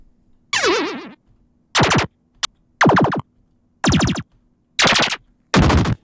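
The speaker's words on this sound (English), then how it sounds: "every game has to have some kind of death sound" A series of six or seven short, punchy retro video game death sound effects, each a burst of buzzy, warbling tones separated by silence, loud and up close.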